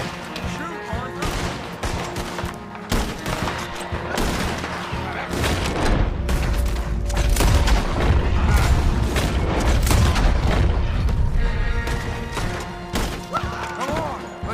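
Gunfire in a Red Dead Redemption 2 shootout, dense bursts of shots and booms running throughout over rumbling action, with voices speaking in between.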